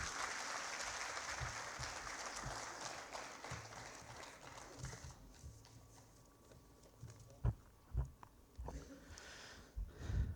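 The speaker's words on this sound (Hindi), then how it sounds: "एक बार जोरदार तालियां बजा देंगे" A political rally crowd applauds, the clapping starting fairly dense and fading into sparse, scattered claps and a few louder isolated thumps toward the end, heard at a moderate distance.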